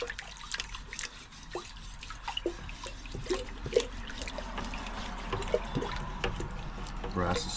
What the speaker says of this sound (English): So I'm going to take the brass brush, always do it in the water, just lightly